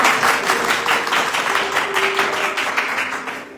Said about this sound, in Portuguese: Será que você pode aplaudir a Jesus por essa palavra?